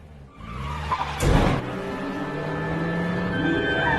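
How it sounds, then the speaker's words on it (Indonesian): Car tires skid in a film scene just before a large truck slams into it from the side: a loud burst of skidding and impact noise around the middle, followed by a sustained engine and road rumble. "Namun, ada sebuah truk besar yang menabraknya dari arah samping, yang membuat Diana langsung maut saat itu j"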